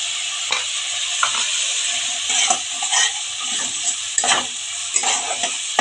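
Garlic paste from about a dozen cloves and ginger paste are fried and stirred in a pan, producing a loud, continuous close-up sizzle broken by repeated scraping and knocks of a spoon against the pan.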